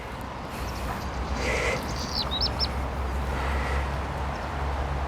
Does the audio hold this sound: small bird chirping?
yes